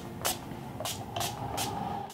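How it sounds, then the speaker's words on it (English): Four short hissing spritzes of Urban Decay makeup setting spray, evenly spaced about half a second apart, close by over a quiet background. "mist a setting spray on"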